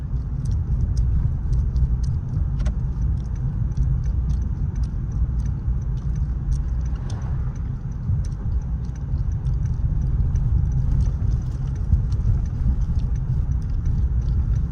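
A car drives steadily along a road during a DMV road test lane change, with a constant low engine and tire rumble heard from inside the cabin and faint ticking clicks above it.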